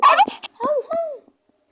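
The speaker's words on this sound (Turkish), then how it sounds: "Ay bu köpek." A cartoon dog in the Toca World video game lets out a quick run of high, short yips and whiny barks, three or four sounds in little more than a second, then falls silent.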